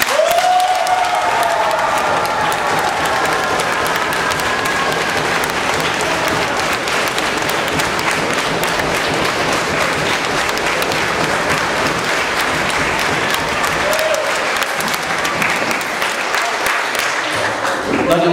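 An audience at an evening stage event in Hungary claps loudly and continuously for about eighteen seconds, with scattered cheers and a brief high whistle or voice rising above the dense applause.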